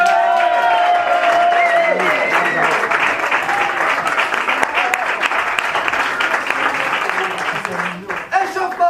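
Audience applauding teams at an improv theatre show, loud, full applause with some cheering that holds steady and gradually tapers, with voices and tonal sounds heard over it.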